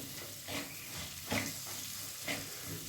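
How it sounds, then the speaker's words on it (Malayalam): Steady sizzling of food frying in a pan, with a few louder stirring scrapes breaking through at regular intervals. "നന്നായിട്ട് ഫ്രൈ ആവട്ടെ."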